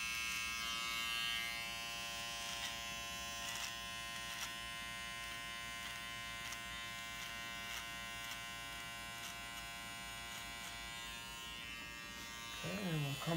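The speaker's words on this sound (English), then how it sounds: "So when we do shave him, we're going to be very careful." Electric razor steadily buzzing through a beard during a close trim, a continuous bright hum with rhythmic harmonic tone running the whole time, fairly near and loud, with occasional soft clicks.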